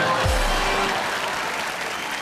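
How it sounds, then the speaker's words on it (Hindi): Audience at a stand-up comedy show applauds after a poem, a steady dense wash of clapping that stays loud and even throughout, with no talk over it. "तालियां बजा दीजिए।"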